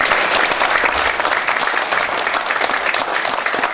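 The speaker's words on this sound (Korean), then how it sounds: "박수 한번 보내주시고요" Steady, dense applause from a crowd at a public policy forum, continuous and loud throughout with no pauses.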